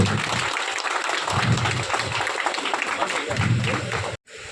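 Sustained applause from a crowd at a police honour ceremony in a police lines ground, dense and continuous with a voice speaking over it, then cutting off abruptly near the end.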